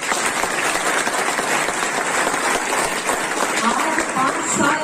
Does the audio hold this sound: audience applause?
yes